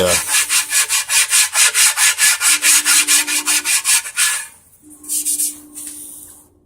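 Hand sanding of a paint repair to remove grinder marks: about a dozen rhythmic, close scratchy back-and-forth strokes, followed by a pause and two shorter rubbing bursts.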